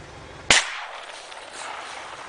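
A shotgun loaded with buckshot fires once at a duck during a hunt, a single sharp blast at moderate distance followed by a brief fading tail and quiet outdoor ambience.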